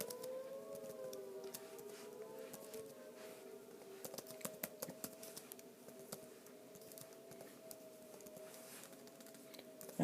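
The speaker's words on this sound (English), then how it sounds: "I apologize if you can hear the tornado sirens that are blaring in the background." Distant tornado sirens wail steadily in the background while keys clatter in quick, irregular bursts nearby.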